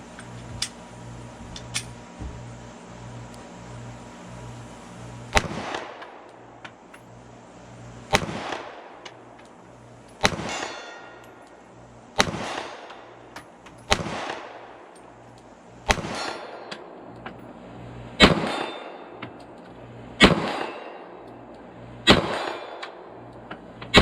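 A PSA Micro Dagger pistol fires about ten separate shots at steel plates 40 yards out, each sharp crack ringing out with a decaying echo, spaced a couple of seconds apart outdoors.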